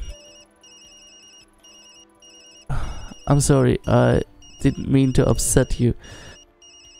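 A mobile phone ringing in the video game Tokyo Dark, a repeating pattern of high electronic beeps that starts alone and keeps going under a spoken line of dialogue.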